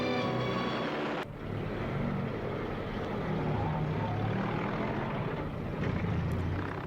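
Droning piston engines of WWII fighter and bomber aircraft during the Battle of Britain, a loud continuous roar that swells and holds steady throughout, with a brief dip early on.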